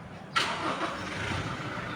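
Used, low-mileage 7-seater family car, retired from agency service, started by push button: a sudden crank burst settles straight into a steady, moderately loud idle.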